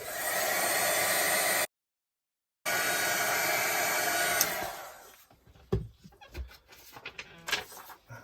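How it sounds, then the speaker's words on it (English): A heat gun blasts steady, loud hot air to dry ink on a mixed-media art journal page, running for a few seconds, cutting out briefly, resuming, then stopping, followed by light handling clatter. "I'm just going to give that a quick blast with my heat gun just to dry off the ink"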